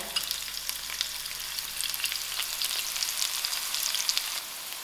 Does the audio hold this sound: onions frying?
yes